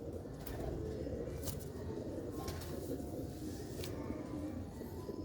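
Sialkoti black-faced pigeons cooing in a loft, a steady low murmuring coo from several birds with a few brief sharp clicks and flutters over it, moderately close and continuous.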